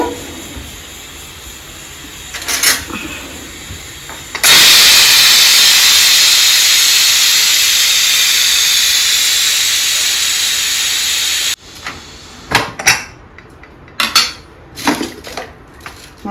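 A pressure cooker holding chana dal and ridge gourd vents steam in a loud, steady hiss lasting about seven seconds, with kitchen clatter and handling noises before and after.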